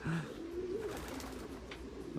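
Racing pigeons cooing inside a pigeon loft, a low throaty coo rolling briefly under a noisy, busy room background, fairly faint and close.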